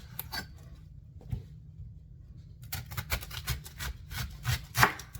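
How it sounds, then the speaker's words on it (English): A knife cutting through a head of cabbage into thick steaks, core left in, on a kitchen cutting board: a series of crisp chopping and crunching strokes, close and fairly loud, denser toward the end. "I'm going to cut my steak cabbage here"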